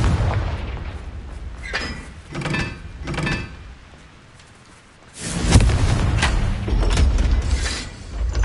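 A Confringo blasting spell detonates in a video game, with several booming, door-like thuds early on followed by a sustained loud rumbling blast in the second half, no talking.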